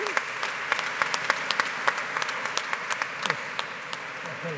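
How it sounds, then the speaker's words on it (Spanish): An audience claps for a speaker's talk at an energy conference, a steady field of applause with individual sharp claps standing out near the front, moderately loud and unbroken. "Un aplauso también por su intervención."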